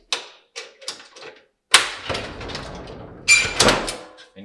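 Solid night-mode door on a Stuv 30 compact wood stove being handled and shut, giving a series of sharp metallic clicks and knocks, then louder clunks and scraping as the door swings closed, close by.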